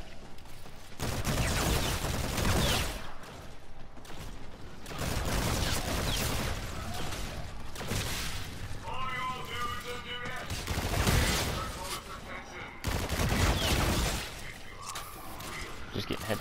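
Rapid gunfire and repeated shots from a first-person zombie mode in Infinite Warfare, loud and dense in bursts with brief lulls, mechanical clatter between volleys, and a voice talking over the action.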